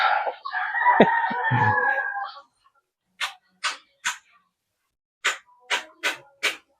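Laying hens and a rooster in a box-type coop: a long, loud rooster crow at the start, then a series of short, sharp clucks and squawks from the hens in two spaced bursts, close by.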